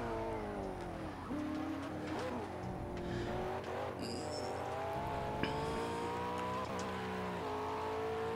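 A McLaren race car in the Project Cars video game, its engine droning steadily with pitch shifts as it accelerates and downshifts, plus a few brief tire squeals, continuous and loud throughout.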